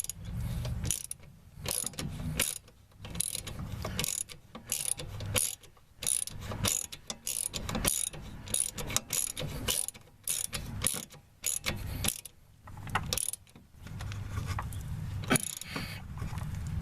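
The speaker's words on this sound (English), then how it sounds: "Use a wrench or whatever you can use to tighten that thing up." A ratchet wrench tightens a bolt on the front end of a 1998-2003 Toyota Sienna, with repeated bursts of fast metallic clicking broken by short pauses and clunks, close and fairly loud.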